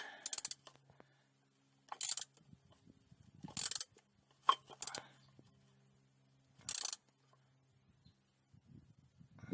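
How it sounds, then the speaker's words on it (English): A ratchet snugging down a bolt on the 7.4-litre 454 engine of a 1999 Chevy K3500 dually during an oil change, heard as several short, quiet bursts of clicking separated by near-silent gaps. "Now if I can just find my ratchet, I can snug this thing down."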